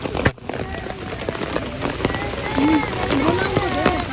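Heavy rain pours down on a picnic barbecue, a steady broadband wash with scattered sharp drop impacts, while people talk and call out over it nearby.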